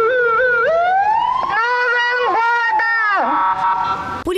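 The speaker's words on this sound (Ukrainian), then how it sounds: "Поліцейські показують малечі патрульну автівку, дають погратися з гучномовцем та сиреною." A police patrol car siren is sounded loud and close while children try it out, a wailing tone sliding steadily up and down with abrupt pitch drops and bends.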